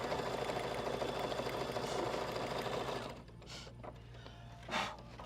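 Sewing machine stitching quilt fabric for a barn quilt project, a close, steady run of stitches for about three seconds, then stopping with a few soft handling noises afterward.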